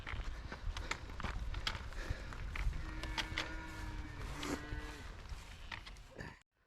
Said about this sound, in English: the cows back there